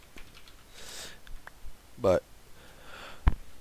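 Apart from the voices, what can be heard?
person sniffing and blowing their nose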